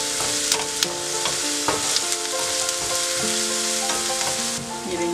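Onion sizzles in hot oil in a pan, a dense, loud, continuous frying hiss with a few light stirring taps, close by and with nobody talking.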